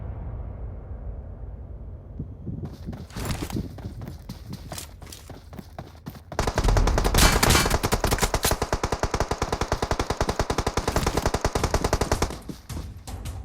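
Rapid automatic gunfire in the PUBG Mobile battle game, starting as scattered shots, then swelling into a loud, dense stream of fast rattling bursts over several seconds before easing off.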